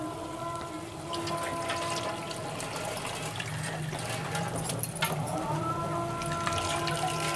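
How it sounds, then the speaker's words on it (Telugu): Rice is poured into a pot of boiling water for biryani, a steady bubbling, watery wash with a soft swell of pouring partway through, heard close and alone. "ఇప్పుడు మనం బియ్యం వేసుకుందాం దాంట్లోకి ఎసరులోకి."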